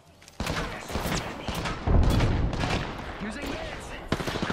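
Rapid gunfire in the video game Apex Legends during a squad fight, with loud, dense bursts of shots and impacts close up and layered with in-game character voices.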